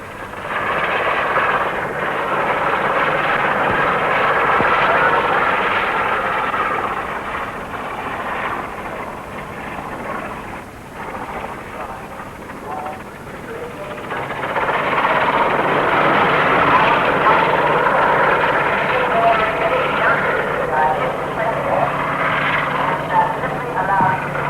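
An ultra-light helicopter driven by rotor-tip jets climbs steeply at the 1958 Farnborough air show, a broad roaring drone that swells, dips and rises again while a commentator talks over it.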